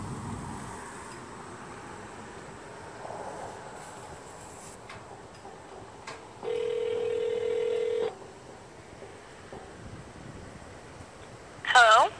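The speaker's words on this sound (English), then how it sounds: "I'm about to make a phone call with an AT&T phone" A single steady phone tone sounds for about a second and a half over quiet background hiss as an AT&T cell phone places a call, followed later by a brief warbling electronic beep.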